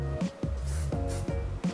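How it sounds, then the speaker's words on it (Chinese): Several short hiss bursts of hair styling spray misted lightly over a quiff hairstyle, each spurt brief and close, with small gaps between them. "我们就用我们的完美定型喷雾，稍微表面稍微给它一些稍微固定"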